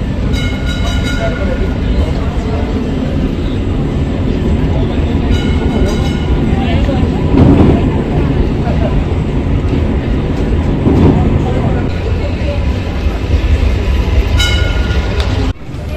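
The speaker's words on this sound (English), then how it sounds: "this tram just goes very slowly up and down the high street." An Istanbul tram, Tram 2, rolls slowly along a busy high street, its steady low rumble and rail noise continuous and fairly loud throughout, mixed with street bustle and voices nearby.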